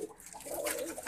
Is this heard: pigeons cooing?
yes